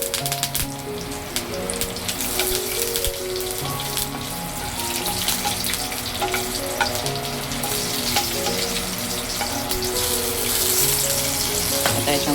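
Green chilli and curry leaves frying with urad dal in hot oil for upma, a loud continuous sizzle with occasional stirring clinks and a faint running-tap wash in the background.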